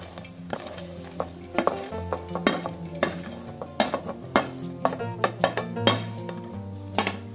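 Beef curry with coconut stirred in a frying pan, a steady sizzle under repeated clinks and scrapes of a spoon against the pan in an irregular rhythm, close and moderately loud.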